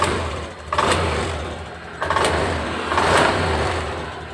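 Honda Beat scooter engine idling, then blipped up in three throttle revs that rise and fall back, close and fairly loud, with no talking.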